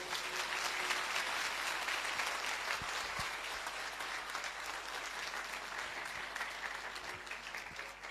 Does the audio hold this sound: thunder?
no